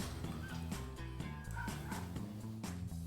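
A Yorkie dog barks and yips in quick repeated bursts, with some whimpering, fairly close but low in level, with no talk.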